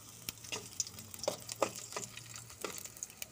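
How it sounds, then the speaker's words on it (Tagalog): Garlic and onion frying in hot oil, a soft background sizzle broken by intermittent spoon stirs and scrapes, fairly quiet and close with no speech. "Tapos ilagay natin ang bawang at bombay or sibuyas mga kawaiti."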